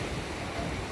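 Sea waves washing onto the shore at Infanta, a steady broadband rush with wind noise on the microphone, brief and without talk.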